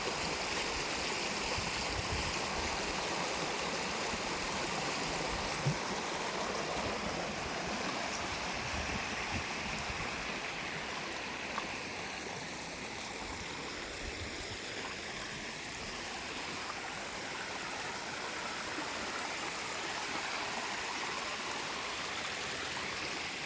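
Steady rushing stream water flows continuously, a dense broadband wash that stays close and even throughout, with no voices over it.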